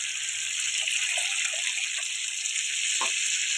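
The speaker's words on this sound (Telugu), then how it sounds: "చిన్న నిమ్మకాయ సైజ్ అంతా చింతపండును నేను నానబెట్టుకున్నాను. ఇప్పుడు దాంతో పులుసు పోసుకున్నాను అండి" Soaked tamarind water pours steadily into a pan of fish curry, a continuous close splashing gush with a brief louder splash near the end.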